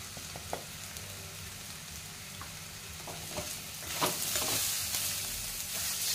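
Spices (red chilli powder, black masala, kitchen king masala) being stirred into fried tomato for dal fry, steady sizzling with several scraping spoon strokes, close and growing slightly louder toward the end.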